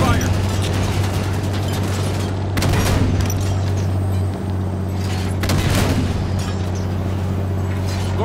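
Heavy gunfire and explosions roar around a Scorpion tank under attack in Halo 5: Guardians, a dense continuous battle din with a steady low engine hum and bursts of louder blasts near 2.5 and 5.5 seconds.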